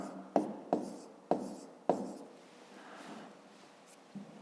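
A pen on paper for a fifth-grade math exercise: four sharp strokes in a steady rhythm, then softer scratching that trails off, close and alone.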